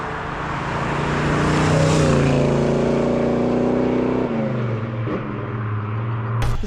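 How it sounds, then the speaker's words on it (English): A 1970 Chevelle SS 502 restomod drives with a deep, loud V8 rumble, its revs sliding down through several gear changes in steps, close and continuous without speech. "trans, of course, goes back down through the gears quite easily"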